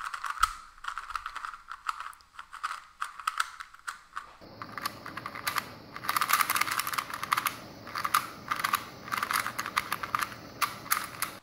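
A plastic budget puzzle cube is turned by hand, producing rapid, close clicking and clacking in uneven bursts that grow busier and louder after a quieter opening.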